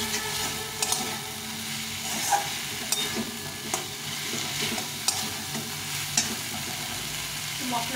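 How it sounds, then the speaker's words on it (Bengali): Potato and drumstick pieces fry with tomato in a pan, a steady close sizzle running throughout, broken by occasional light clicks and stirring knocks. "এই আলুটা দিয়ে দেবো, আর সঙ্গে সজনাটা দিয়ে দেবো। এটা দিয়ে একটু ভালো করে কষিয়ে নেব।"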